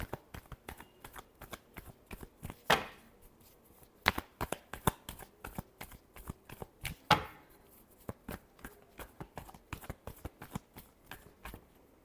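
Tarot cards shuffled by hand during a reading, a steady run of soft, quick slaps and flicks with a few louder riffles, close and alone with no talk.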